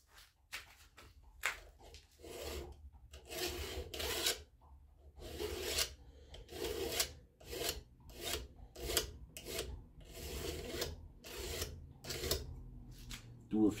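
A very fine file rasps in repeated short strokes across a gunmaker's tool held in a soft-jawed vise, a close, fairly quiet rhythmic scraping.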